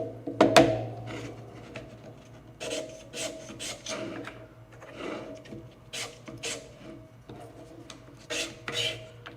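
Repeated short rasping strokes of a file smoothing the edges of small tab bits on an OO scale model river valley bridge kit, close and fairly quiet, in irregular bursts with no talking.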